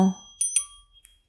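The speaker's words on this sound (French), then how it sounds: "je pense que c'est une ancienne cloche quand même" An old copper bell, found in a lot of vintage flea-market trinkets, gives a few light, bright strikes with short ringing tones, close and fairly quiet, after a brief low vocal sound at the start.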